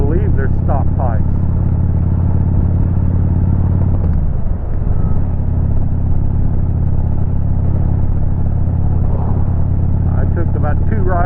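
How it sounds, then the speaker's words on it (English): A Kawasaki Vulcan 2000 motorcycle with stock exhaust pipes runs in a loud, steady low rumble throughout, with a brief dip midway, while a person talks over it at times. "this bike's just a lot louder. I believe they're stock pipes."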